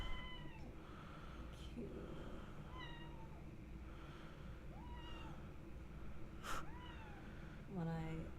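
An orange cat meows repeatedly in a quiet indoor room, several drawn-out meows spaced every second or so, the last one louder and rougher, while faint background hum continues.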